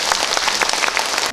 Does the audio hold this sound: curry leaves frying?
no